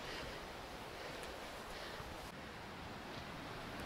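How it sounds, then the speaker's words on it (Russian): Steady, soft roar of Black Sea surf washing continuously at Parkovoe, Crimea, with faint wind noise and no voices. "Слышно только прибой моря."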